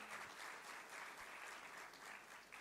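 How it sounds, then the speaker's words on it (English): Conference audience applauding steadily to welcome a speaker on stage, a dense, even wash of clapping held for a few seconds with no voices over it. "Please welcome him with a huge round of applause."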